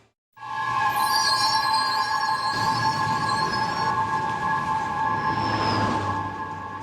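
A New York City subway train runs on its rails, a loud, steady close rumble with sustained metallic squealing tones from the wheels, continuing without pause and with no voices.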